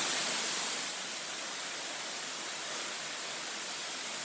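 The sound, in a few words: high pressure soap spraying at a self-service car wash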